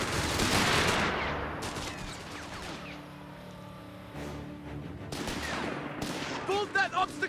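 Battlefield gunfire from the strategy video game Company of Heroes 3, Afrikakorps side in a 4v4 match: dense bursts of rifle and machine-gun fire with heavy impacts, loud at the start, then renewed volleys alongside shouted in-game voice lines.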